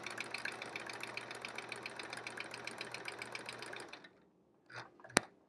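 Sewing machine doing free-motion quilting on a quilt-as-you-go block, a steady rapid mechanical stitching hum close by for about four seconds, then it stops, leaving a few faint handling noises and a sharp click.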